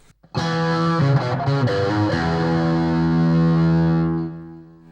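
An electric guitar played through an Amp1 Mercury amplifier on its vintage setting with a real tube pedal rings out a distorted lick that settles into a long sustained chord before fading.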